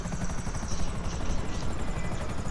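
A video game helicopter, abandoned in midair, spins down with a loud, continuous rotor whir and buzzing engine drone that holds steady throughout.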